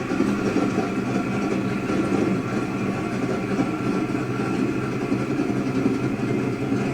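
A 2006 Extreme Performance Double Throwdown with a stroked 615 LS3 engine runs at a steady idle, giving a loud, continuous, even rumbling drone with no talk over it.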